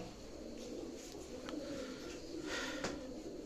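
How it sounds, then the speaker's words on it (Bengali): Teddy breed pigeons coo softly and repeatedly, faint and somewhat distant against a quiet background hiss. "ভিউয়ার্স দেখেন মাশাল্লাহ কোয়ালিটির কবুতর"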